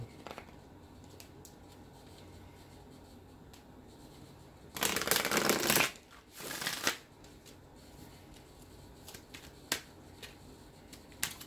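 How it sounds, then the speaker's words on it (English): Cards are riffled in one quick, crisp burst, followed by a shorter second shuffle, then quiet with a few light taps. "Shuffle one more time, Leo."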